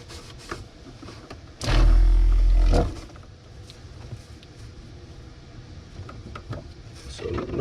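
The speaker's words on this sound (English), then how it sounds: "You probably heard the water pump going." A small water pump runs in a DIY off-grid RV van kitchen, a loud droning burst of about a second close by, then stopping amid quieter handling noises.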